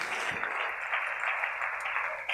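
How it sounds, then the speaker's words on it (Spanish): A congregation applauds during a church service, making a soft, continuous wash of clapping that sounds distant and fairly faint throughout. "Dele ese aplauso al Señor."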